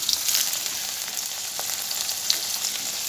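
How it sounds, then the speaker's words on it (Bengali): Cut vegetables fry in a pan for chowmein, giving a steady, close sizzle with a few faint clicks over about three seconds and no voices. "যে সবজি আমার কাটা আছে এগুলো সব দিয়ে ভেজে নিয়ে চাউমিনটা আমি তৈরি করি"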